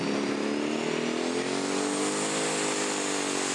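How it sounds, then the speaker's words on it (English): A Pro Stock pulling tractor with a V8 diesel engine roars at full pull, a loud, sustained close engine blare whose pitch climbs steadily as it drives down the track. "It's very different from the other Pro Stocks with its V8 diesel engine, and it is flying."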